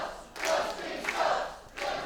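Wrestling crowd at an LWF Lancashire Riot tag team title match shouting and jeering at Dustin Greaves, loud bursts of massed voices with short lulls between them.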